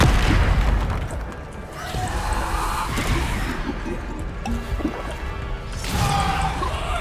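Spell impacts in the Hogwarts Legacy video game come as heavy booms and crashing bursts layered with whooshes, loud and dense throughout, with the strongest hits at the start and near the six-second mark.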